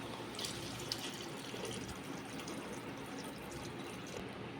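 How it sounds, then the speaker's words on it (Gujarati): A faint, steady rush of three glasses of water pours into a pot of vegetable pulao with brinjal, a continuous splashing flow heard quietly without any talking. "હવે આપણે આમાં 3 ગ્લાસ પાણી નાખીશું."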